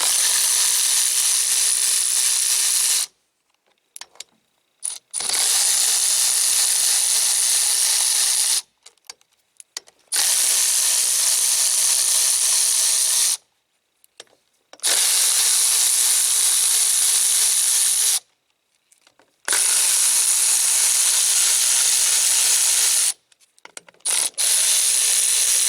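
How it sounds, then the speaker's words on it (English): Bursts from a Milwaukee Fuel impact tool backing out six half-inch bolts holding a fan to its clutch on a Cummins engine, five loud rattling runs of a few seconds each separated by short pauses, close up with no talking. "I'm going to use my Milwaukee fuel."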